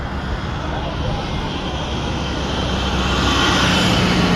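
Broad, steady roar of aircraft at Freetown Airport in Sierra Leone, a constant engine wash that swells slightly toward the end, heard from fairly near with no clear speech on top.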